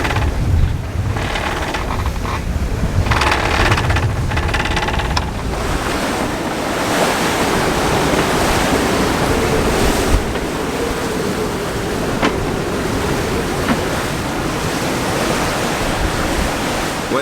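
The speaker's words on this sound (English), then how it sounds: "Wind has really built overnight. It's on the beam, and it's probably getting close to, I don't know, 26, 27, 28 knots now." On a 36-foot Beneteau sailboat crossing to New Zealand, a strong beam wind of about 26 to 28 knots roars over the ocean, with loud continuous surf-like rushing water and heavy wind buffeting on the microphone.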